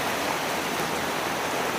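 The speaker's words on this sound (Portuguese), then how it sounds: "Aqui uma Hilux passou." Heavy rain and rushing floodwater on a street in Rio Preto, SP, forming a steady, dense broadband wash with no distinct vehicle sound standing out.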